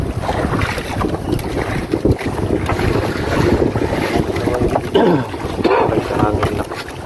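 Gusty wind buffets the microphone on a small fishing boat out on a lake, a rough close rumble with choppy water slapping underneath, while people talk in short bursts over it.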